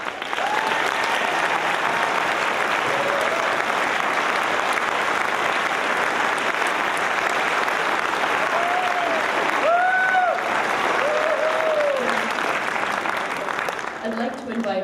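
Graduation audience applause for the Antioch University Class of 2016 graduates, a dense, steady wash of clapping with scattered whoops and cheers rising above it, loud and sustained throughout.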